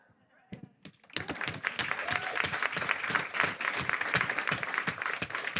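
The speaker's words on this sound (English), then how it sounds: "One more applause." A conference plenary audience breaks into applause after a few isolated claps, building to dense, sustained clapping from many hands in a large room, with some speech mixed in.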